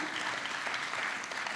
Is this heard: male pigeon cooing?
no